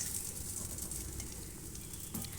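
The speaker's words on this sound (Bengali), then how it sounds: "প্রায় সব বড়াই ভাজা হয়ে গেছে এ কটা বাকি আছে ভেজে নেব" Lentil vadas (dal bora) fry in hot oil for dahi vada, giving a close, continuous crackling sizzle with faint bubbling and no voices.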